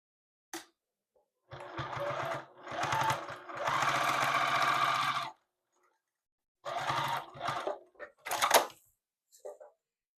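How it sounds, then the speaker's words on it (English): A sewing machine runs in several bursts as it stitches across a line and back stitches on a fabric bowl cozy, its motor whirring loud and close with short silent gaps between runs. "just sew across that line and back stitch"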